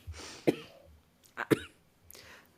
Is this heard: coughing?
yes